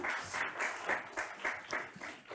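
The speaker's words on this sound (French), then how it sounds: "je crois qu'on peut l'applaudir." A brief burst of audience applause for a reader at a literary event, soft and fairly distant, with evenly spaced rhythmic claps.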